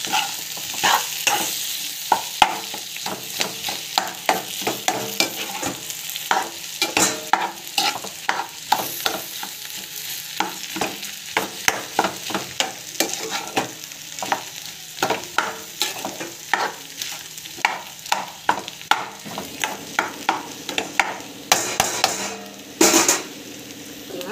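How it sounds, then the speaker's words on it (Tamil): Food sizzles steadily in a hot pan while a spatula scrapes and stirs in frequent, rhythmic strokes, close up and with no talking. "இது பார்த்திங்கன்னா ஜஸ்ட் வந்து நல்லா வந்து வதக்கிட்டுருக்கோம்"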